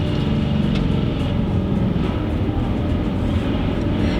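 Steady drivetrain drone from a Nissan 350Z as the driver lifts off the gas, a continuous low rumble with road and engine noise throughout, no clear knocks or clunks standing out.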